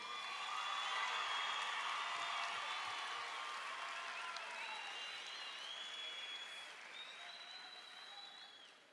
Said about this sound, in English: Parents, let's give a round of applause for your students over here.